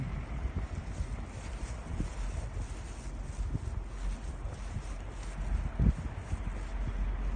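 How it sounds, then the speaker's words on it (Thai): Wind blowing steadily outdoors on a cold winter night, a continuous broadband rush with low rumbling gusts and buffeting against the microphone, no voices present. "แต่ว่ามันลม"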